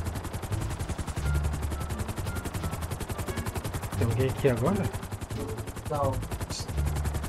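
Rapid automatic gunfire in the FiveZ zombie mode of a GTA roleplay game, a steady stream of shots running through the whole stretch while players talk briefly over it.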